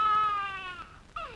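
A voice imitates a baby's wailing cry played back from a tape recorder, one long, steady, near wail and then a short rising sob, with no other sound around it.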